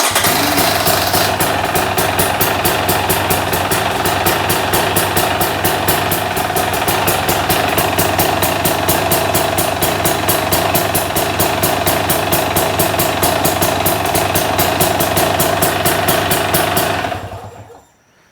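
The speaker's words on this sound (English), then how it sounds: "I'm going to power on the bike" A 2024 KTM 300 EXC/XC-W two-stroke dirt bike, already warmed up, idles loud and close with a steady rapid thrum for about seventeen seconds, then cuts off abruptly into silence.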